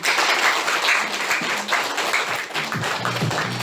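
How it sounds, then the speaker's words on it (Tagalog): Audience applause at a 2017 school debate event, a dense steady patter of many hands clapping close by, with some low murmuring or voices entering toward the end. "Palakpak naman dyan."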